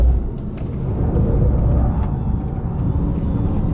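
A 2024 Alpine A290 GTS driven in sport mode, heard from inside as a loud, steady low road rumble and engine hum that holds through the whole stretch.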